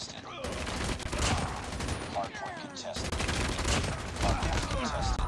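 Rapid automatic gunfire from Call of Duty Mobile rattles in dense, near-continuous bursts, with a player's voice heard speaking over the shooting.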